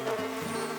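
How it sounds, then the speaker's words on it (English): Bees buzz loudly from the top of a large oak tree. The steady, droning hum lasts less than a second and is heard up close, with no voices. "from the top of the tree, there came a loud buzzing noise"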